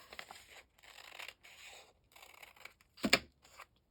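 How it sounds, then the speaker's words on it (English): Scissors snip paper for a junk journal in several short bursts of crisp cutting with brief gaps, close and clear, with no talking. "We'll take our scissors and just kind of eyeball cut it ourselves."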